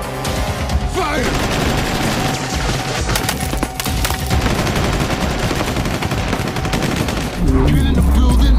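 Gunfire during an action film shootout: rapid, dense bursts of automatic shots and cracking impacts, loud and continuous for several seconds, ending in a heavier boom, with a brief shouted voice underneath.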